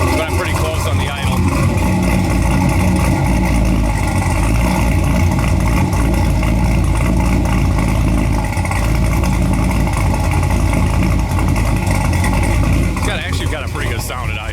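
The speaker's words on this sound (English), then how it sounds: "I'll just fire it up so you guys can hear the cam." V8 converted from an L99 to an LS3 with a new cam, idling with a lumpy, choppy rumble close by, mixed under ongoing talk.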